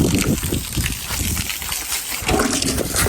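Calves slurping water from a bucket on a cattle farm, with wet sloshing and splashing throughout, close by and fairly loud.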